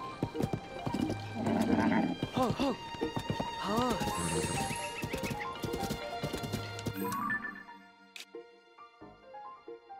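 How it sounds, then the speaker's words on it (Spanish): Hooves clip-clop rhythmically as a horse travels through a forest in Zelda Tears of the Kingdom, alongside a neigh and game sounds, while a player talks over it before the sound drops off near the end. "Se tiene que poder llegar a caballo"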